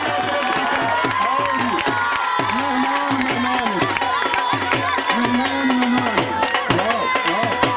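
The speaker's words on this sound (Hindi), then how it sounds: "मेरे मेहमान वास्ते तालियां" Spectators at an outdoor kabaddi match, Gumti versus Noor Jamal in Dinga, Kharian, Gujrat, cheer and clap in a loud, sustained wave. An announcer's voice carries over the crowd.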